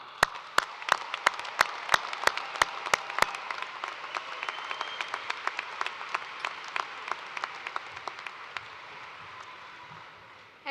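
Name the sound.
round of applause for graduates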